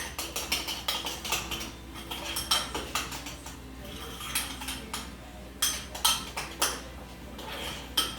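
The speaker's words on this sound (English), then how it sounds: "Give that a really good stir." A spoon stirs chocolate powder into a fruit dip in a bowl, making rapid rhythmic clinks and scrapes that come in several bursts with short pauses between them, close up and crisp.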